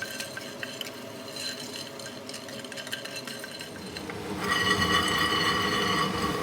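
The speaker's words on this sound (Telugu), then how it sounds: "ముందుగా స్టవ్ ఆన్ చేసుకొని ఇలా ఒక ప్యాన్ పెట్టి ప్యాన్ కొంచెం వేడైన తర్వాత మనం ఈ పల్లీని ఇలా వేసి" Peanuts dry roasting in a heated pan on the stove, giving soft rattling and scraping as they are stirred, growing louder and brighter in the last couple of seconds.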